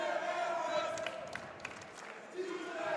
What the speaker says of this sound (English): Crowd is starting a chant of TJ Airways.